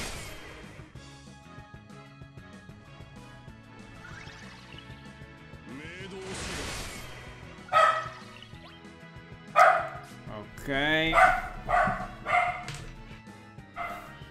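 Several sharp dog barks and yips break in during the second half over game sounds from a Final Fantasy turn-based battle, with a brief spoken word from a player.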